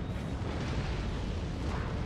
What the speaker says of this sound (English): And we'll watch our cannons fire away.